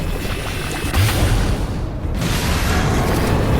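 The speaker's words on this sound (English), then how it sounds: "let me just go back to the teapot cannon" A teapot cannon fires in Alice: Madness Returns, a deep booming blast of gameplay cannon fire that swells about a second in and carries on as a loud, continuous rumble with no talk over it.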